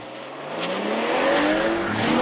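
A 2023 facelift BMW M340i on its stock exhaust accelerates hard, the engine note climbing steadily in pitch and loudness over about two seconds, close and with no talk.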